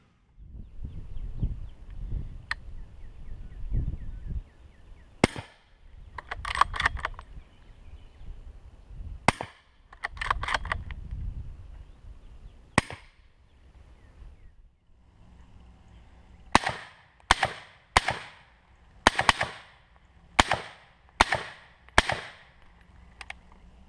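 Suppressed gunshots through a Rugged Radiant suppressor, a series of sharp muffled cracks, some single and some in quick strings, fairly close, with quiet pauses between volleys.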